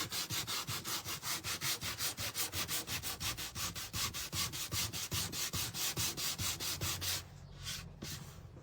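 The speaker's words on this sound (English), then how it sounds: "So what I'm doing is sanding it so that it'll bring out some of that grains of wood." Close, steady back-and-forth sanding strokes scrub across wood to distress a painted white door hanger, about thirty rhythmic rasps running without pause before a brief softer rubbing near the end.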